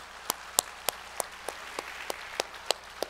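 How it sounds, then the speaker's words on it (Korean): A church congregation at a winter revival meeting claps in a slow, steady rhythm, about ten sharp, evenly spaced claps standing out over a faint background of scattered applause. "우리 하나님께 감사와 영광의 박수 올려드리겠습니다."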